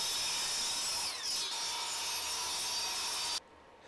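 Power saw cutting through wood for bench legs, a loud steady broadband whine that runs unbroken for over three seconds before stopping abruptly, with no speech.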